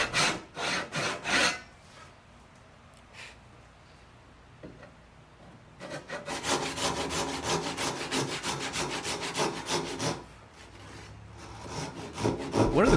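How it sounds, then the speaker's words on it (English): A Japanese hand saw cuts down into wood to form tenon cheeks for leg and stretcher joinery, with close, rhythmic rasping strokes in a short burst, a pause, then a longer, faster run of sawing. "I'll take my Japanese saw and cut all the way down to the middle"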